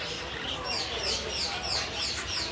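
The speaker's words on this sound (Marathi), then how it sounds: "भरपूर पक्षी आहेत बघा." Birds chirp repeatedly outdoors in an open area, with bright, short calls recurring at an even pace over a steady background hiss.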